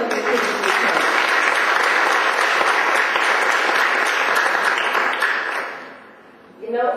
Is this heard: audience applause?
yes